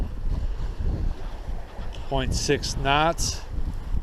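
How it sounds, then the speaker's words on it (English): A north wind buffets the microphone while sailing on Lake Erie, a rough, steady low rush running throughout. Someone speaks briefly over it. "Got a beautiful north wind here today."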